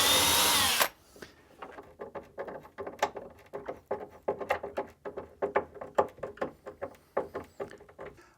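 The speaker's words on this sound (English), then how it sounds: "So drill a couple of quick pilot holes." A power drill bores a pilot hole in a cabinet door with one short, loud whir at the start, then a run of light, irregular taps and clicks.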